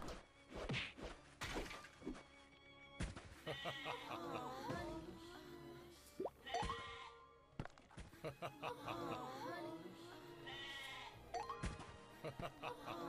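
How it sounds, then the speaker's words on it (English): Cartoonish sheep bleats from the video game One Drunken Knight, several wavering bleats mixed with thwacks and smashing hits, with gaps and bursts of game effects and someone talking at times. "You can punt the sheep."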